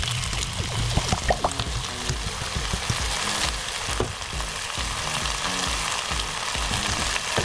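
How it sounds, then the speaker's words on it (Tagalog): Onion sautéing in a pan for chicken pancit canton, a steady dense sizzle with scattered stirring clinks and scrapes throughout, close and fairly loud, no talking. "Gawin lang natin translucent yung parang luto na ng konti yung sibuyas"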